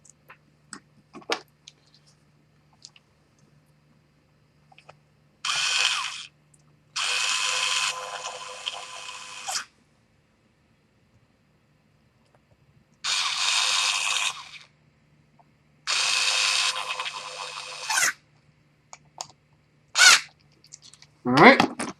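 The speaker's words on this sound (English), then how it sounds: "Install these screws here." Screws being driven into a Daiwa Saltist LD35 two-speed fishing reel, heard as several short bursts of a small buzzing tool, each a few seconds long, with quiet clicks and handling between them.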